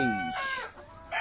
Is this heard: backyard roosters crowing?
yes